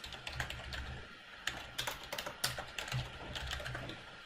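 Someone types a username on a computer keyboard, with quick uneven bursts of close, crisp key clicks and short pauses between them in a quiet room.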